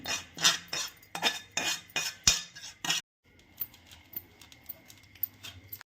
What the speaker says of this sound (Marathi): मी खसखस घेतली आहे ती छान भाजून घ्यायची इथं खसखस टाकून घ्यायची